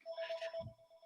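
An electronic telephone ringer trills during a committee meeting, a steady repeating tone that is fairly loud and close, with a brief low thump partway through and no talk over it.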